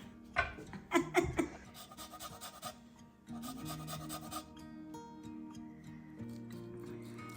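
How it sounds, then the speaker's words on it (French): A lime being zested whole on a rasp grater before juicing, giving repeated scraping strokes in short bursts followed by steadier rubbing, close and moderately loud, with no talk. "Qui d'autre oublie de zester ses agrumes avant de les couper?"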